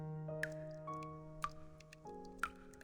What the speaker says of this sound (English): Sound of dripping water echoes nearby.